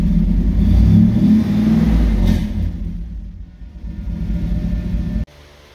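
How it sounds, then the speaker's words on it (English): A 1991 or older Ford truck's engine runs after a dual fuel tank repair, a loud, steady low rumble with a slight rise early on that fades toward the end before cutting off abruptly. "our engine's running good"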